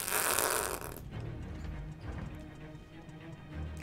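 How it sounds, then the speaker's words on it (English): A cartoonish fart sound plays in the game Luigi's Mansion 3, one loud, buzzy, drawn-out blast up front followed by lower rumbling sputters that fade and return. "Here's the fart joke."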